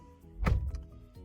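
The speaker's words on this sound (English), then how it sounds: "let me close the door" A newly bought car's door swings shut with one dull, close thunk, followed by a faint softer click a moment later, with no talking.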